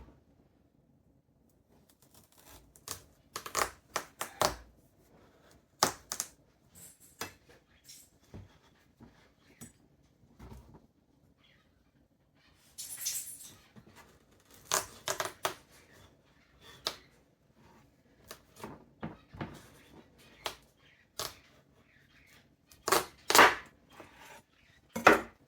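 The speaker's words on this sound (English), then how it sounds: "Okay, so now we want to cut this in half. I've got the right knife." A kitchen knife works through a kabocha squash, giving a string of sharp, irregular chopping cracks and thuds at close range, clustered in bursts with short pauses between strokes.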